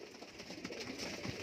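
Lakha Saleti pigeons, a grey-marked Punjabi breed, coo softly and continuously at close range, a low murmuring warble with a few brighter chirps mixed in.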